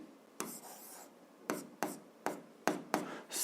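Someone writes a physics formula by hand, and the pen makes short, quiet scratching strokes at close range, separated by brief pauses.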